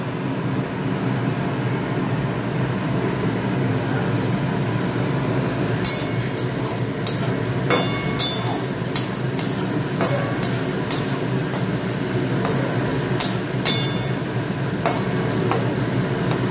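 Carrots and beans fry and get stirred in a pan, a steady sizzle running throughout with scattered sharp ticks and clicks from the utensil against the pan, no voices present.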